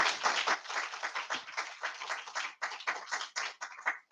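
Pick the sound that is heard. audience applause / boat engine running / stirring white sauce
audience applause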